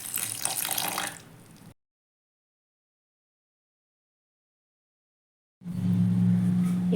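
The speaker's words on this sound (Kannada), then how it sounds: "ನಾನು ಇನ್ನೊಂದು ಚೂರು ಇದಕ್ಕೆ ನೀರು ಸೇರಿಸ್ಕೊಳ್ತಾ ಇದ್ದೀನಿ" Water runs into a bowl of flour while dough is mixed for cauliflower bhaji, a steady splashing pour heard near and alone in two stretches split by a long gap of silence.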